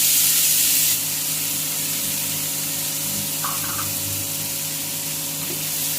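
Chopped onions and fennel seeds sauté in hot oil for a prawn pepper masala, giving a continuous hiss of close sizzling with no voices.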